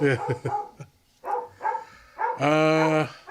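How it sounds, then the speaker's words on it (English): A dog barks indoors amid people chatting, a few short barks early, then a longer, drawn-out bark or howl-like yelp near the end, close and fairly loud, with voices around it. "The dog."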